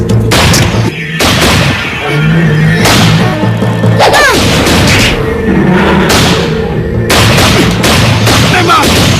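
Loud gunshots ring out at a giant lizard in a fantasy drama scene, several sharp booming blasts spread across the stretch amid dramatic effects and a brief voice.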